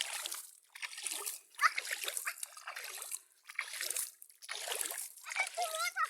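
Feet being washed in flood water during the rainy season, with repeated bursts of splashing and trickling close by, separated by brief pauses, while a voice can be heard nearby.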